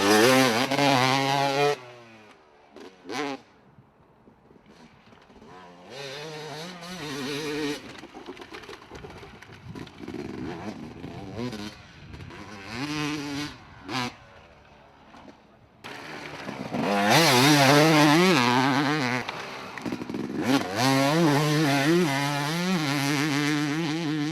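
Yamaha 250 YZ motocross bike revving hard, a loud buzzing two-stroke engine note rising and falling in bursts with quieter gaps between, heard close up.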